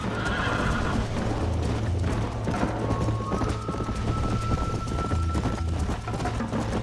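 Horses gallop at full speed in a race in the video game Red Dead Redemption, with a continuous drumming of hooves and a loud neigh over a busy backdrop.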